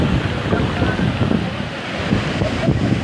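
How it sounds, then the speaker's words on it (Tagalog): Mabato Falls, a waterfall in Barangay Mabato, Maragondon, Cavite, gives a constant, loud, rushing roar, buffeted by wind on the microphone, with a voice faintly underneath. "Yan po yung ano, Mabato Falls mga ka-idol."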